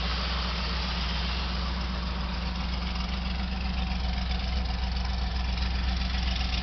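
A Dodge Coronet's engine idles steadily with a low, even rumble and constant throb, close up and with no voices over it.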